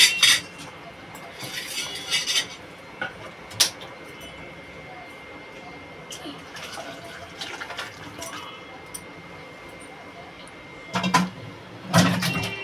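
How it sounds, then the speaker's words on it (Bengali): A cooking pot of coconut-milk mango tok is lifted off a stove, giving scattered metallic clanks and scrapes of utensils against the pot, with a louder clatter near the end, in a quiet kitchen. "আমি টকটা নামিয়ে নেব।"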